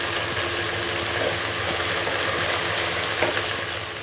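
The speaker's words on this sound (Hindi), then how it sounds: "इसको तकरीबन 5 से 7 मिनट तक तेज़ आँच पर हमने इसके साथ फ्राई कर लेना है प्याज़ों के साथ।" Okra and onions fry in a pan on high heat, giving a steady close sizzle and hiss with faint stirring clatter and no talking.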